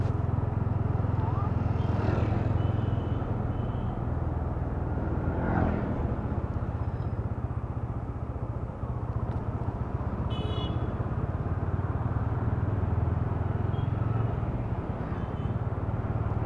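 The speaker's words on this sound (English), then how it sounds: "You will see the change in the sound of the exhaust, which is coming in the mic, because the mic is installed inside the helmet." A motorcycle exhaust drones low and steady throughout, picked up by a microphone inside the rider's helmet with the visor open, alongside constant wind rush and the occasional faint passing vehicle.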